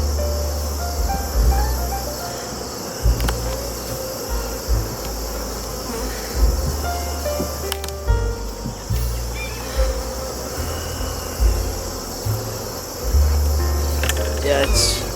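Honeybees buzz steadily around an open beehive during a late-summer hive split, a dense close swarm hum with individual bees droning past in passes, loud and continuous throughout.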